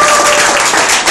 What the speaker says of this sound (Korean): 박수하셨어요.